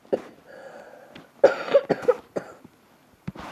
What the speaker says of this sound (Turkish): bakın hatta öksürüyorum